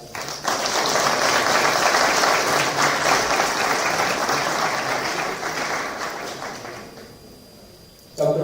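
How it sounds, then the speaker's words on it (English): Sustained applause from an audience at a student engagement conclave at CCSHAU, a dense steady roar of clapping lasting several seconds before thinning out, ending with a brief renewed burst. "Please on the dais with a round of clap."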